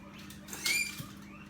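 Hairless skinny pigs squeak faintly for fruit in a quiet kitchen, a short high squeal rising briefly over a soft background with a small patter afterward.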